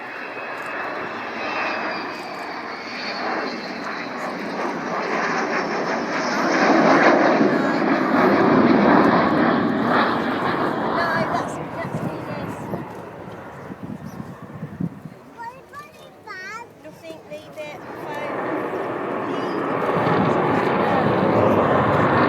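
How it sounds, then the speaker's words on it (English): Avro Vulcan XH558, a 1960 bomber, flying a display at the RAF Cosford air show: a loud, sustained jet roar that swells and fades as it passes, dips, then builds again, with a commentator talking over it. "This aircraft was made in 1960, so she had her 53rd birthday last Saturday."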